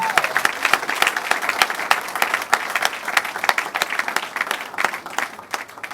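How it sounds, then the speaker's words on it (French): An audience applauds steadily, with many hands clapping throughout, a dense patter that rises and falls slightly. "Applaudissez pour la première dame."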